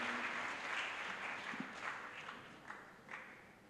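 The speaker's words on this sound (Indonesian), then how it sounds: "Tepuk tangan untuk Profesor Andi Hamzah." An audience applauds a professor at a formal legal lecture, a steady wash of clapping that holds at an even level for the whole stretch, with a few sharper individual claps standing out near the end.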